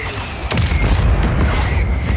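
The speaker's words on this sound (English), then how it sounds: "Is that a mortar? Is that the enemy's mortar?" A mortar explosion in Call of Duty Warzone on Rebirth Island, a single loud boom that rolls into a sustained rumble of low game noise, with no voices over it.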